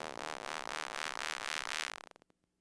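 Bandpass-filtered sound stepping up to a 2000 Hz filter frequency, heard as a dense, loud, rough hiss that swells rhythmically like rubbing. It cuts off after two seconds into a few faint clicks.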